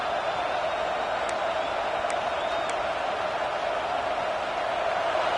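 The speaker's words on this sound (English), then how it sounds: "This crowd bringing the energy and noise early." A stadium crowd in a college football video game gives a dense, continuous roar that stays steady and loud throughout, with a few faint whistles cutting through.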